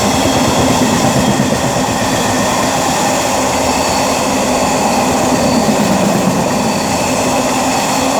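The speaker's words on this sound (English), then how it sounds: "we also have passing through here DB Cargo UK Class 66 working 4 Mike 54 from Didcot TC to East Midlands Gateway Terminal" A DB Cargo UK Class 66 diesel freight train passes through Oxford station, a loud, close, continuous roar of engine and rolling wagons with steady rumbling for the whole stretch.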